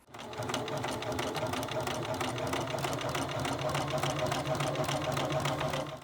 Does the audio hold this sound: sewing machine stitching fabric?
yes